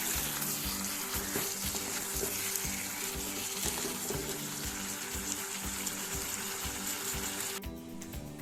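Chicken pieces for Goan-style vindaloo sizzling and frying in a pan, a steady close crackle with faint stirring clatter, running without speech and thinning out at the very end.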